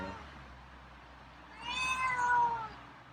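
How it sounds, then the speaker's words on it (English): A feral cat meows loudly and close by in a single drawn-out, wavering call that rises and falls over about a second, following a quiet stretch of low background noise. "I'm probably going to regret teaching you how to meow."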